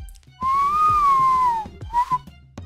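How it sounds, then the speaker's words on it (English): A sharp whistle rings out across the water in the video game Heartbound: one long, loud, clear tone that bends slightly, followed after a brief gap by a shorter second whistle, with no talk. "Sharp whistle rings out across the water."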